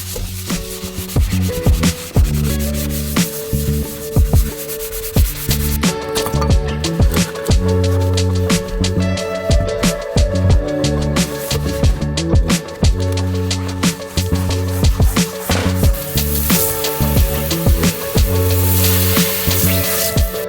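Someone scrubs a stainless steel sink with a homemade cleaner, making close, loud, continuous rubbing and scouring strokes in an uneven rhythm throughout, with no talking.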